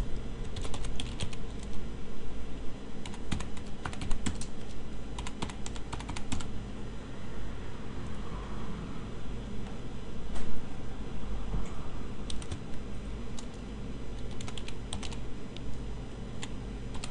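A computer keyboard being typed on while entering a username and password, giving a long run of quick, close key clicks in uneven bursts with brief pauses, no voices.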